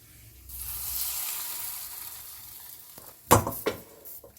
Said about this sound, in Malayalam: കടുക് വറുത്ത് കഴിഞ്ഞിട്ടുണ്ട്. ഇത് നമുക്ക് കപ്പയിലേക്ക് ഒഴിക്കാം.